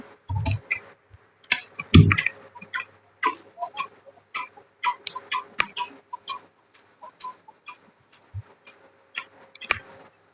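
Fabric lining being cut with scissors, heard as a quick series of crisp, close snips and clicks with brief pauses, plus a few soft thumps of handling.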